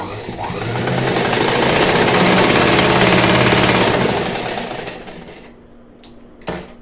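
A sewing machine runs steadily while stitching a hook-and-eye strip onto fabric, a loud continuous mechanical whir that holds for several seconds, then slows and stops, followed by a brief clack.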